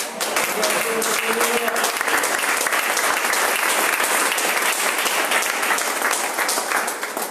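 A church congregation applauds steadily through a Pentecostal evening service in Ribeirão Preto, with dense, continuous clapping throughout and a few voices faintly mixed in.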